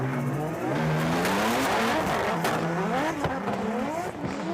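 Formula Drift race car sliding sideways at a Japan round, engine revving hard with rising and falling pitch sweeps and tire roar, loud and continuous throughout.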